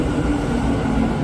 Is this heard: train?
yes